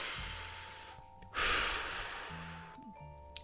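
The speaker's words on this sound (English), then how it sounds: "it is important to take a cleansing breath" A single deep cleansing breath, drawn in and let out slowly: one loud, airy rush of breath in the middle, set between quieter passages with some low tonal background sound.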